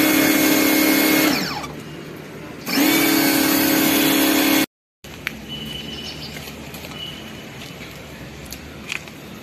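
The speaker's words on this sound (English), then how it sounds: "with a high pressure washer, you can see the amount of dirt that's coming out" A Bosch Aquatak 125 high pressure washer blasting mud from a car's wheel arch, a loud continuous motor whine with hissing spray, the pump pitch cutting in and out, briefly stopping, then running steady again.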